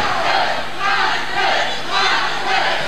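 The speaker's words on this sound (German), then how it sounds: "Aber auch Iceman hat seine Fans im Publikum" An audience cheers and shouts at a German professional wrestling show, a loud, continuous crowd roar that swells in waves, with no clear speech.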